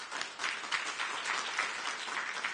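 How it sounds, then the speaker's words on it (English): Audience applause at a New York City press announcement, an even wash of clapping from a modest crowd, moderately distant and steady for a few seconds. "I want to give them a big round of applause"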